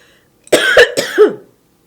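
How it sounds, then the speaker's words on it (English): A close, loud fit of two or three harsh coughs in quick succession, alone in otherwise quiet surroundings. "whenever I start talking, I start coughing"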